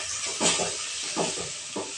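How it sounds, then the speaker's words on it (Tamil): Chopped manathakkali greens sauté in a pan with a steady broad hiss and soft intermittent stirring swishes, close and fairly loud throughout. "கீரை வதங்கிட்டு இருக்குதுங்க"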